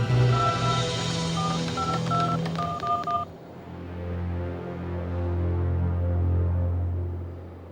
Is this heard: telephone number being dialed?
yes